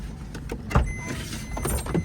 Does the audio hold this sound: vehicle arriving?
yes